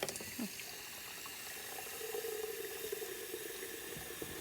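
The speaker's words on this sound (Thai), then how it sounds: "เสร็จแล้วก็เปิดเอาน้ำมา" A tap turned on at a campsite in Norway, water running in a steady, fairly faint hiss that continues throughout with a low background.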